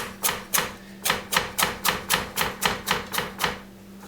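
A knife slicing a carrot into half-inch rounds on a cutting board, about a dozen crisp, evenly spaced chops close up, with no talking.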